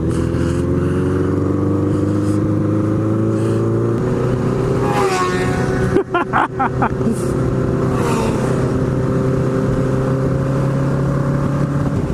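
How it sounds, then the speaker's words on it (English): A loud Nighthawk motorcycle engine with a partly rebuilt engine runs continuously up close, its steady roar shifting pitch, with a sharp clunk and brief sputter midway. "your bike is so loud you probably can't"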